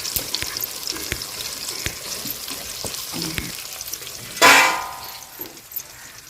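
Brinjals hit hot oil in a pan with softened tomatoes. A steady close sizzle swells into a loud hiss as they drop in, then settles back, with faint stirring and clatter.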